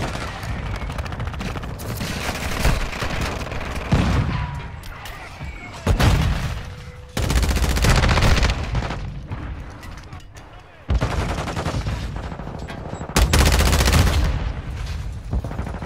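Shotgun fire in Modern Warfare 2 multiplayer, several loud, sharp blasts in bursts separated by short gaps, mixed with other gunfire and game sounds.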